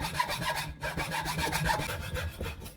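A handsaw rasps back and forth through upright wooden boards, cutting two straight channels in a quick, steady rhythm of close, scratchy strokes with a brief pause partway through.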